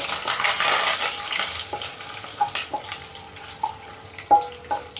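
Chana dal, urad dal, mustard seeds, cumin and dried red chillies sizzle in hot oil for a tempering, a steady close crackle broken by a few sharp pops and stirring clinks.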